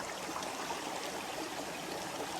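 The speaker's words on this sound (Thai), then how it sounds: "ดูน้ำตกสวยมาก" A forest waterfall and stream rush in a steady, unbroken wash of flowing water, close and even throughout with no voices.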